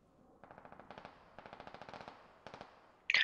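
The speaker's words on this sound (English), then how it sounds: "we are taking one is taking fire from the southwest. AR fire." Automatic rifle fire from a military tactical shooter video game, heard as several distinct bursts of rapid, evenly spaced shots at moderate distance, with a sharper, louder crack right at the end.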